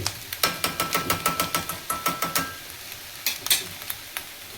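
Coconut rice with ghee being sautéed in a pan, narali bhat style: a steady run of quick spatula strokes scraping and tapping the pan over a soft sizzle, a short pause, then a few more strokes, with no talking.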